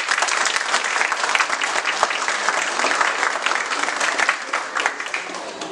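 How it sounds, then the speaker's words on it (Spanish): Loud, sustained applause from a crowd at a senior citizens' week event, many hands clapping steadily throughout. "el ingeniero Julio César Ramírez López, para que les pida un aplauso"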